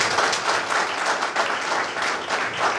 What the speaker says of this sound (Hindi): हमारे डिप्टी कमांडेंट सर का पुनः जोरदार तालियों से हम धन्यवाद करते हैं